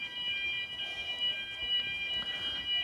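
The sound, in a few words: alarm going off near apartment building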